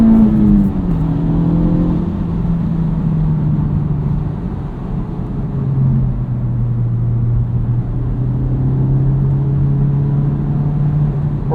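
A 2023 Honda Civic Type R on its stock exhaust with the valve open drones steadily from inside the cabin while driving, its engine note rising and falling gently with a constant road rumble underneath.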